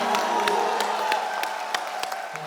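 A studio audience on a television comedy show applauds with crowd noise and scattered sharp claps, holding at a steady moderate level throughout with no speech.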